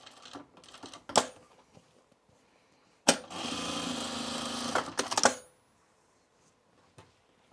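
A sewing machine top stitches a pair of Mitchell trousers in a quiet room, with one steady two-second run of stitching between isolated clicks and handling knocks.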